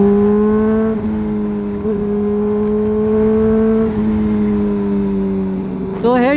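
A Honda CBR 1000 motorcycle engine drones loud and close with a steady, tonal hum, dipping slightly in pitch a few times before a short wavering rise at the end.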